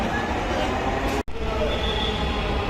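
A metro train pulls into Karwan Bazar station on a crowded platform, a steady loud rumble of wheels and motor filling the space, broken by one abrupt brief dropout midway before the noise resumes.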